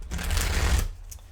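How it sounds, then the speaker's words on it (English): Tarot cards being shuffled by hand, a brief close riffling rustle lasting about a second, loud and alone without speech. "Let me give it one more shuffle, please."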